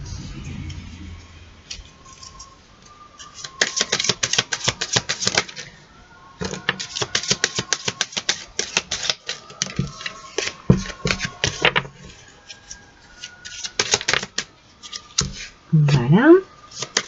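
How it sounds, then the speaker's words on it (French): Petit Lenormand cards shuffled and drawn at close range: bursts of crisp riffling and flicking clicks come in clustered runs with short pauses, plus a faint voice near the end. "Allez, on va tirer des cartes du Petit Lenormand."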